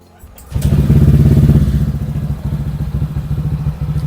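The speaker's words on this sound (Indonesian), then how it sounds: "Terus gue mau nyalain nih motornya" A Honda Vario 150 motorcycle, already warmed up and with a remapped ECU, starts after a brief quiet moment and catches into a loud, close, throbbing idle with a steady rapid pulse.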